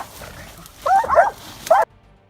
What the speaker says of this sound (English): the yellow hare-hunting dog rushed, barking